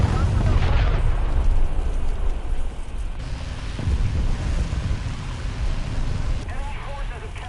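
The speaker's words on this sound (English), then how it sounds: "Oh, that's a bomb." Bomb explosion in War Thunder tank combat, a heavy rumbling blast that rolls on and decays, with a second rumble partway through, under a player talking.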